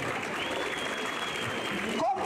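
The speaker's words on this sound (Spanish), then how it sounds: "Aplauso para él." Audience applause at a village fiesta with a rural bull-riding show: a steady wash of clapping from a crowd at middle distance, with a voice speaking over it near the end.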